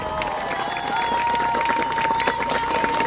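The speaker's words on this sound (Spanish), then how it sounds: "el gran aplauso para los campeones" A crowd applauds and cheers as the Warriors are crowned champions of a competition, a loud, continuous wash of clapping with shouts throughout, under a steady tonal hum.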